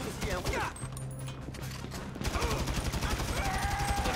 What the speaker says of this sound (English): the shots are going all over the place